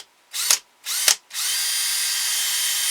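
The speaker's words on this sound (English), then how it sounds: "we're going to drill a hole for our screw" A power drill revs twice in quick bursts, then settles into a steady, continuous whir as it bores a screw hole into a wooden ventriloquist dummy head, close and fairly loud.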